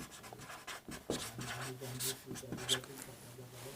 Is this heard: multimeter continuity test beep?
no